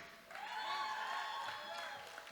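Crowd applause and cheering at a powerlifting competition, a broad wash of clapping and shouts that swells quickly and holds steady, moderately distant.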